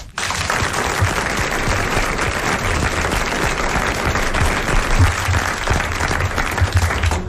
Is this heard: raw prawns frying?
no